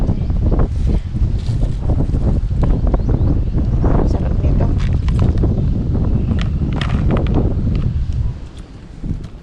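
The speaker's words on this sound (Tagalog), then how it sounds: "grabe po kalakas ng hangin" Strong wind buffets the microphone in a continuous heavy rumble, with gusty swells and faint rustling throughout.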